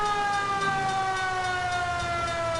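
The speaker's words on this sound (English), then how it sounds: "Hey, the siren sounds sick." Fire truck siren in the video game LA Noire, a loud continuous wailing tone sliding slowly in pitch over engine rumble, alone without talk.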